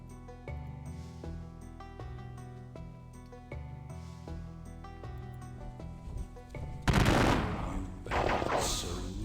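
Musical accompaniment plays in a Battle of Gettysburg war strategy game, then a loud crackling volley of gunfire bursts in near the end, followed by a second rattling round.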